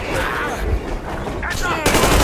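Automatic weapon fire in the video game Metro Exodus, a dense continuous clatter of rapid shots and bursts up close, with a heavier crack of firing near the end.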